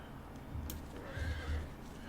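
A horse in Final Fantasy XIV gives a short, fairly quiet whinny over soft game ambience, with faint hoof clops underneath and no talking.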